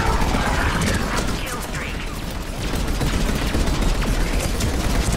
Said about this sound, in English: get ready to machine gun this place